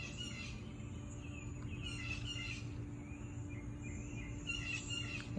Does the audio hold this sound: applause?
no